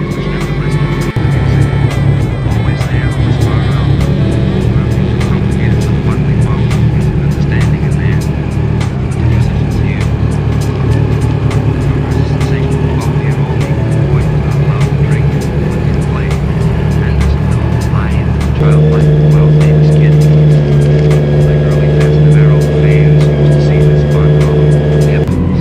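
A Honda CBR 600cc motorcycle engine fitted to a go-kart idles while warming up, a steady close mechanical drone with buzzy overtones that continues throughout, with some voices in the background.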